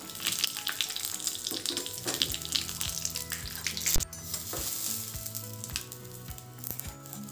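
Mustard seeds, curry leaves and asafoetida sizzling in hot oil as a tempering for instant tiffin sambar, a continuous close crackle with scattered pops and one sharp burst, with no voices.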